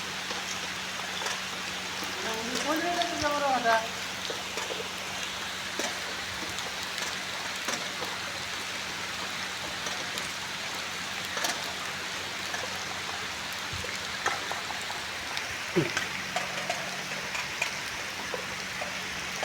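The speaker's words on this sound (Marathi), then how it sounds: "बघा पाऊस परत आला." Rain falls outdoors beside a tidal creek, a steady, soft hiss of drops with running water beneath, fairly distant and continuous, with a brief faint bird-like call early on.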